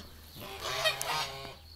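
Several geese honk in a short, overlapping burst, fairly close, with a faint low hum in the background.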